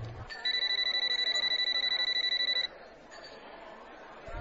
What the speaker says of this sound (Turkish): Bu ses de ne? Bu telefon ziline benziyor.